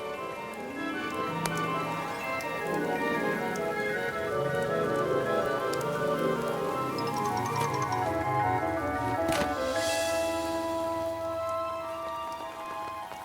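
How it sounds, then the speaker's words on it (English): Steady rain patters on a surface with scattered drops and ticks, soft and continuous throughout, no voices. "The rain was falling more slowly, too."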